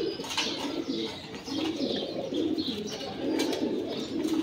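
Pigeons coo steadily and close by in a loft where the birds have just been bathed and set out in the sun, with soft overlapping calls, a few chirps and faint wing movement, no talking.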